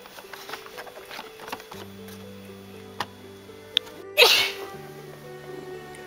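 A single loud, sharp human sneeze bursts out near the end, close to the microphone, over quiet indoor background with soft ticking and a low sustained tone.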